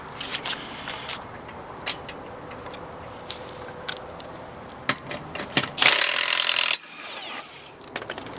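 Scattered clicks and knocks sound while a wheel is being taken off a 2010 Nissan Altima, followed by one loud, harsh burst of a tool spinning a lug nut that lasts under a second.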